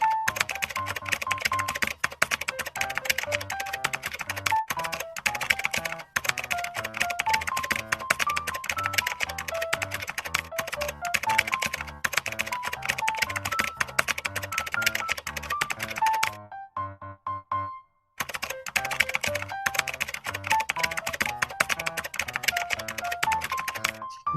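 Rapid typing on a computer keyboard while filling in a bank account opening form, dense continuous key clatter with a brief pause near the end before resuming, no talk.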